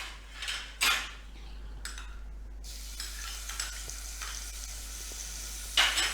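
Ginger-garlic paste fries in a pan with a soft, steady sizzle, broken by a few sharp spoon-against-pan scrapes and clinks near the start and end, close and fairly quiet, without speech.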